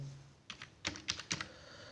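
Fingers tap a computer keyboard to enter a one-time passcode, a short burst of about six crisp, close keystrokes at an uneven rhythm, with no talking.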